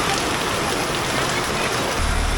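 Heavy monsoon downpour over flooded roads, a steady loud dense hiss of rain pounding on water and pavement throughout, with a low rumble near the end.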